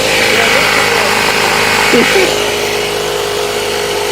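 A small air compressor drones steadily and evenly throughout while inflating a tire, a constant close motor noise with a brief faint blip partway through.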